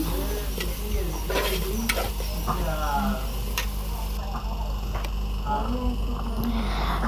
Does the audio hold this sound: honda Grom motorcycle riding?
no